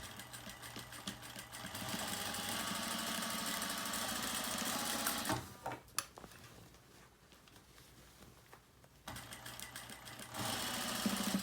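A sewing machine sews elastic into a waistband in a long continuous close run, pauses for a few seconds of handling noise and clicks, then resumes stitching steadily.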